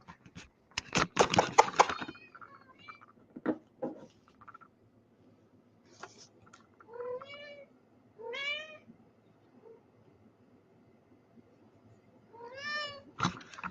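A house cat meows indoors several times with rising, drawn-out calls spaced a few seconds apart, after a burst of close rustling and handling noise, in an otherwise quiet room.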